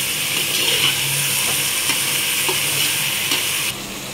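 Four tomatoes sizzling loudly in a hot pan, stirred with scraping and clacking strokes, steady close frying hiss that drops away near the end.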